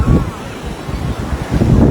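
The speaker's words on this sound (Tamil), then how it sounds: "இந்த மாதிரி ஒரு பீச், செல்லு உப்பு காற்று" Sea waves and wind at Marina Beach in Chennai on a hot day, a steady low roar of surf with gusty wind buffeting the microphone, swelling louder near the start and end of the short stretch.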